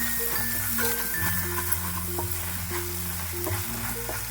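Egg keema rice being stirred in a pan after garam masala goes in, a steady close sizzle of frying with scraping stirs throughout, over a constant low hum.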